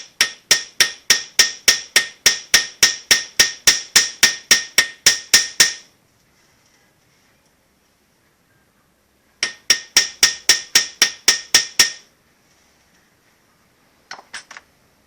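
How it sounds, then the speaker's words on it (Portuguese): Hammer blows crushing a small metal pin 5 mm by 15 mm while building a miniature MDF wood truck body: a fast, even run of about twenty sharp strikes, a pause, another dozen-odd strikes, then a few lighter taps, loud and close with no talk. "Eu vou esmagar essa parte com o martelo."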